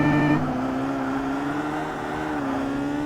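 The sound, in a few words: race car engines in Forza Motorsport video game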